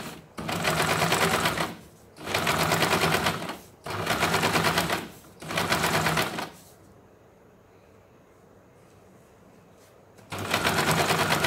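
A sewing machine stitches the back neckline of a blouse, running loud and close in four steady bursts of rapid mechanical rattle separated by short pauses. A quiet stretch follows before the machine starts up again.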